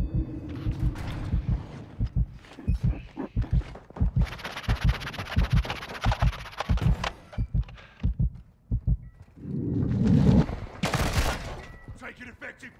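Rapid bursts of gunfire from Call of Duty with a TAQ-M rifle, sharp repeated shots in uneven clusters across the clip, with a louder dense blast near the end and game voice lines mixed in.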